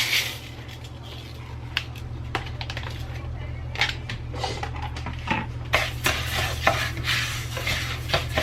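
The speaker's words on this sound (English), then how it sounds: "now I have my pot here with a little bit of oil, so I'm going to go ahead and add my rice" Uncooked rice, about a cup and a half, poured into a pot with a little oil, giving a dry scattering rattle and light sizzle in several clattering bursts over a steady low kitchen hum.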